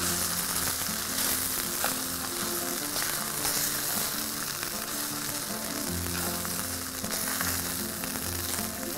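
Rice is poured into a hot pan and stirred and fried with a constant loud sizzle and crackle, with scraping strokes and a low hum running underneath.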